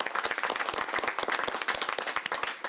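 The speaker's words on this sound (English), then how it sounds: "we'll give her a round of applause" Applause at a school district board meeting, a round of clapping for an exemplary teacher and mentor, with dense, steady hand claps from a modest room of people, fairly close and without talk.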